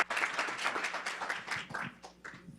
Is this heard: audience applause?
yes